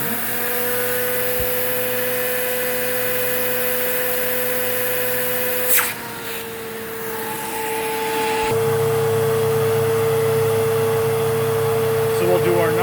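A Eureka Whirlwind 4380 vacuum cleaner runs continuously nearby, a loud steady motor whine with strong tonal hum; midway the pitch and airflow noise shift abruptly as suction changes, then it settles into a heavier, deeper roar.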